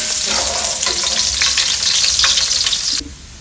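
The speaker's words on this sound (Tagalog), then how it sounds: "Ginisa sa bawang sibuyas, luya, dahon ng sili." Garlic, onion and ginger sauté in a hot pan, with a loud, dense sizzle and stirring scrapes close by that drop off abruptly near the end.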